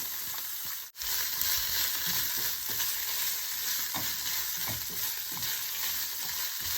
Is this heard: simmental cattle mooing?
no